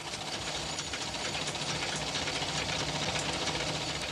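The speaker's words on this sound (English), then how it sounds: "Meanwhile, in a tailor's workshop not far away on Paharganj, Abdul Ghani sews trousers." A sewing machine stitching trousers in a tailor's workshop in Paharganj, a steady rapid mechanical whirring and rattle that continues throughout at moderate loudness with no talking.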